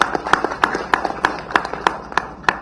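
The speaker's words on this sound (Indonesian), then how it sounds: "Apresiasi, kita tepuk tangan untuk Kepala BNN." An audience applauding the head of Indonesia's BNN narcotics agency at a press event on a foiled two-ton methamphetamine smuggling case, heard as a sparse, steady rhythm of individual claps, fairly close.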